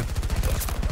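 A grenade launcher fires in the video game Battlefield 2042 as a rapid string of sharp, punchy blasts in a brief, dense burst.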